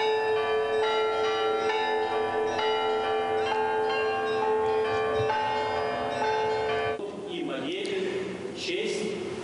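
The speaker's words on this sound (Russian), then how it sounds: "Колокольный звон сегодня объединил города, страны и континенты." Church bells ring out for the Baptism of Rus celebration, several bells striking in a loud, layered pattern of overlapping tones before the peal gives way to outdoor ambience.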